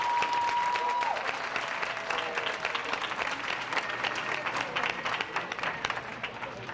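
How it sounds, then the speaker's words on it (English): Audience applause at a school sports banquet for winter and spring seasons, a steady roomful of clapping that holds loud throughout, with a brief tone at the start and faint voices mixed in. "Can we just pause, please, and give a round of applause to Mr. and Mrs. Boothby so they can hear us"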